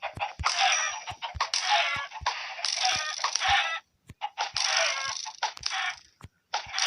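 Video game chickens cluck and squawk in repeated bursts, separated by sharp clicky hits and short gaps, loud and close with no talking.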